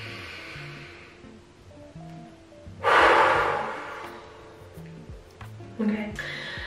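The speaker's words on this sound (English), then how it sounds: "Inhale, exhale. One more time." A person takes deep breaths, with one long, loud breath in the middle and a shorter one near the end, over soft background music.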